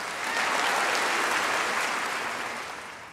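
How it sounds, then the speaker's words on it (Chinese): Audience applause at a school martial arts demonstration, a close, dense burst of clapping swelling quickly and holding steady before fading slightly over about three seconds, with no talk. "请再次鼓掌。"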